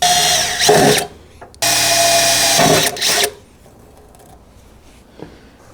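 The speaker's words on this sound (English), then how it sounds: "Now I'm taking a 7/64 drill bit." A power drill with a 7/64 bit whines loudly in two short bursts, spinning up, cutting a small hole briefly, then stopping, with faint handling noise afterward, while fitting a rear differential breather on a 5th-generation Toyota 4Runner.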